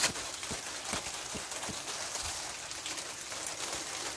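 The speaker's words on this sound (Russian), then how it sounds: "О, как барабанит дождик." Steady patter of rain drumming on a surface, with a few sharper, heavier drops tapping irregularly in the foreground.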